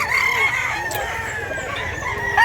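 A gamefowl rooster on a Cebu gamefarm crows in a long, loud call, near and alone, against steady farm background noise.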